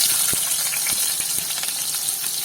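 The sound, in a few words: onions sautéing in hot oil for Kerala fish curry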